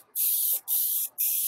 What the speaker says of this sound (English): that's what I love about spray paint. It's fast and dries fast.